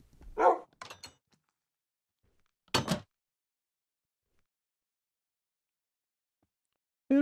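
A dog in a Minecraft game barks a few separate times, with two quick barks close together, a long pause, another bark, then silence and a final cut-off sound.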